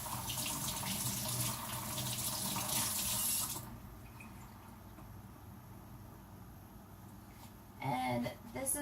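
Tap water runs steadily into a kitchen sink while fish is rinsed, a loud broad rush that stops partway through, leaving a quieter room where a person talks, then a brief splash returns near the end.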